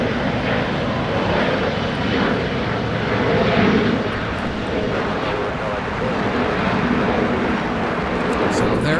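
An ANA airliner taxies at LAX with a steady, loud jet engine roar that holds for several seconds, with talk over it.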